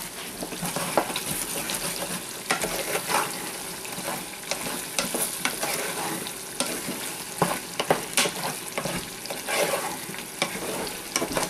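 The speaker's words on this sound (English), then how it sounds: "while I'm waiting, I'm just going to stir my potatoes a little more" Potatoes and onions fry in a pan while a spoon stirs them, a steady close sizzle broken by scraping and clattering stirs throughout, with no talking.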